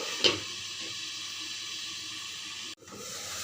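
Banana stem (thor) seasoned with salt and turmeric fries in a pan over low gas, giving a steady, soft sizzling hiss throughout with a brief clink near the start and a short dip near the end.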